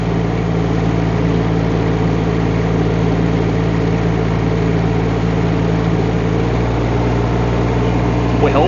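A Rippa R18 mini excavator running as it drives in reverse, a loud steady diesel drone with a low hum and a slight shift in tone near the end, no distinct voices.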